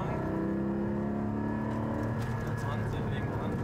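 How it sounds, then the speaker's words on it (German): A Porsche Cayman GT4 (718) braking hard, engine and road noise swelling then settling as it slows, close and fairly loud, with voices talking over it. "Dann starten wir gleich mal mit der ersten Bremsung."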